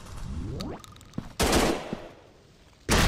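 Bursts of automatic gunfire in the FPS mobile game Gun Strike Shooting 3D, loud and close, with a ringing mechanical tone, then two heavy blasts separated by a short pause.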